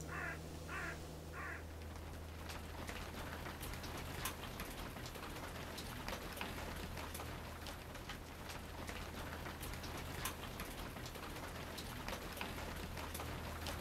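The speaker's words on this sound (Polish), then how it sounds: "Postraszyło trochę gradem i cisza." A hail and rain shower patters steadily on a wildlife photography hide, a dense even hiss with sharp ticks throughout, while a crow caws a few times at the start.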